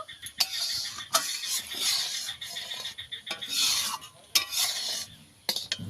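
Ripe jackfruit mixture being stirred continuously in a pan, a spoon scraping and rubbing against the metal in repeated close strokes with sharp clicks and a soft sizzle underneath.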